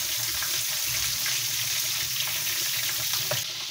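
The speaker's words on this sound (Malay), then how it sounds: "Kita letak butter ya. Tunggu butter tu mencair ya." Butter melting in a pan, a dense steady sizzling hiss, close and even, no voices.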